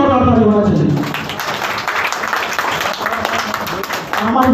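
An audience applauds students at a quiz competition in Asansol, a dense burst of clapping swelling between stretches of someone speaking over a loudspeaker at the start and end.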